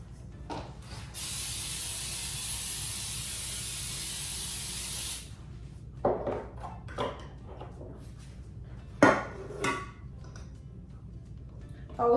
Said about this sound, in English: non-stick cooking spray, Baker's Joy